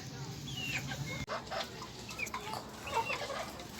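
Pet chickens in a small backyard coop clucking and chirping close by in overlapping, irregular calls, with faint rustling and a quiet background murmur.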